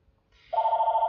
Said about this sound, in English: Oh, and that's the phone.